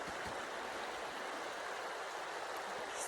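A stream of running water in a snowy natural setting, heard as a steady, broad rushing and babbling that continues evenly throughout, close by and with no voices.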